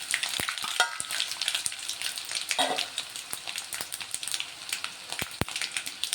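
Onions and dried red chillies sizzle and crackle in hot oil for a pickle, a steady close frying hiss broken by sharp pops and occasional stirring scrapes.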